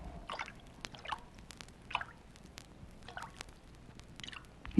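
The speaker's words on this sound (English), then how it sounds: "He began to drool." Wet, squishy drooling sounds from a vintage LP recording of Aesop's fables, a series of separate slurping drips spaced about every second over a quiet hiss, ending in a sudden louder thump.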